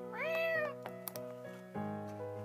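A cat meows several times, a long rising-and-falling cry followed by shorter mews, close and clear with no talking.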